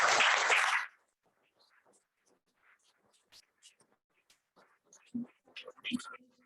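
Audience applause for author Kristina Olsson at a literary event, a loud burst of many hands clapping for about a second that then stops abruptly, followed by scattered faint room noise and a few quiet voices.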